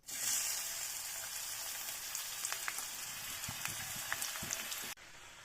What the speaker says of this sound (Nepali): प्याज अलिकति चेक गरौँ, हल्का हुन्छ यतिको फ्राई गर्नु।